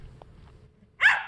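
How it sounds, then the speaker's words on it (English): A single dog bark rings out near the end, short and fairly loud over a quiet background with faint rustling before it. "Is that a dog inside a doggy?"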